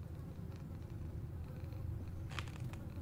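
A cat purrs in Alone in the Dark: Prologue, a soft continuous low rumble, quiet and steady, with a faint brief rustle near the end and no talking.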